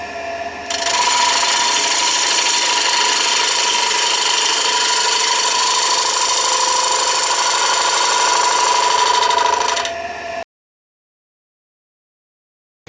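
A woodturning tool takes a refining cut on a spinning wooden rim, giving a loud, steady scraping hiss with a faint tonal whine that holds for about ten seconds and then stops abruptly.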